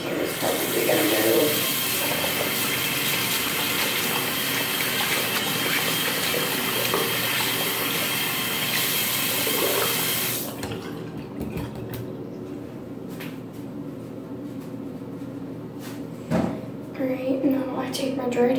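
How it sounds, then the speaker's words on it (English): Tap water runs steadily into a sink while hands are washed, a loud continuous hiss that stops abruptly partway through, leaving quieter room sounds and small handling noises. "Actually, I wash my hands."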